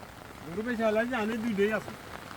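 Someone talks over a steady patter of rain falling in the background in a village in Raghunathpur, Sirajganj, Bangladesh.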